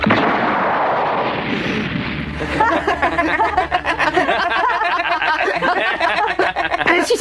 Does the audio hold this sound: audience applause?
no